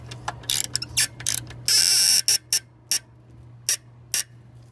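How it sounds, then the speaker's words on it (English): A ratchet tightens a 12 mm bolt on a Toyota Corolla 1.8 L water pump, giving sharp, close clicks in uneven bursts, one longer buzzing run, then single spaced clicks over a low steady hum. "be sure to tighten the bolt here, 12 millimeter"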